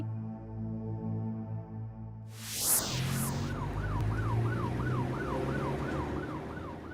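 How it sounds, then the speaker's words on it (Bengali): Cartoon ambulance siren passing on a bad road: a low droning vehicle hum gives way to a sharp burst, then a loud wailing siren cycles steadily up and down in a regular rhythm, close by with no talking. "ওই তো অ্যাম্বুলেন্স গেল"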